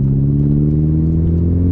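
Engine of a VW MK4 GTI with a short shifter fitted, a steady loud low-pitched drone with strong harmonic bands, held evenly and close throughout with no voices.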